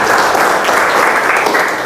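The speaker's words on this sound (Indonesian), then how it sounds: "Beri tepuk tangan anak-anak." Students in a classroom give a burst of loud, dense applause, continuous clapping from the whole group with no talking over it.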